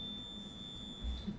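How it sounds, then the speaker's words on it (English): A fire alarm sounds during a county board meeting as a steady high electronic tone that holds through the whole moment, fairly faint, over low room noise with no talk. "That was a fire alarm."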